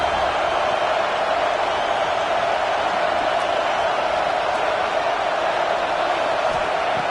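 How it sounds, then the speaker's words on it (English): Steady roar of a large stadium crowd at a football game, a dense, continuous wash of distant voices at constant loudness with no distinct cheers or words. "Listen to the crowd energy here in the early going."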